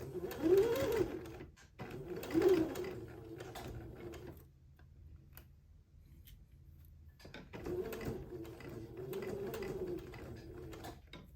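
A sewing machine stitches around a neck hole opening, running in bursts of rapid mechanical whirring with a pause in the middle before starting up again, close and moderately loud.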